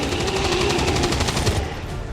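Soldiers' rapid automatic gunfire in XCOM 2, a tight rattling burst of shots over a steady background hum, close and loud.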